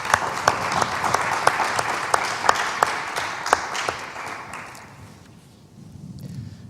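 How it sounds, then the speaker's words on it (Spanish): Welcome applause from a library lecture audience for a guest speaker, sustained crowd clapping with sharp individual claps standing out, fading gradually toward the end. "les pediría pues un aplauso de bienvenida"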